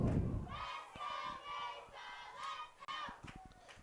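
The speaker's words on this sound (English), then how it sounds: "Mesa Ridge crowd is getting into it" Home crowd at a Mesa Ridge high school football game cheering and roaring in sustained waves, with scattered thumps and shouts rising through the noise at a moderate distance.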